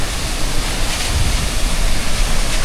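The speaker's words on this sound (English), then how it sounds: "we found this low-key waterfall in Ecuador and nobody's here" Low-key waterfall in Baños, Ecuador, a continuous broadband roar of falling water, steady and close, with no voices.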